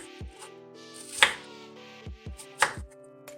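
A knife chops through an onion on a cutting board, dicing it into small pieces: a few separate sharp cuts at an uneven pace, close and clear, with no talking.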